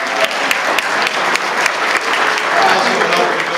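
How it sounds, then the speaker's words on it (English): A crowd at a political town hall with Martin O'Malley and Shontel Brown gives a big round of applause: close, loud, unbroken clapping that holds steady and swells slightly toward the end. "Big round of applause"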